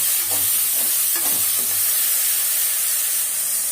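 Onion and tomato fry in a hot pan for a prawn curry, giving a steady, close sizzling hiss throughout, with a few soft stirring scrapes early on.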